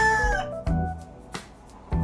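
A rooster crows nearby, loud and clear, with a drawn-out call followed by a few short sharp bursts, heard alone with no talk.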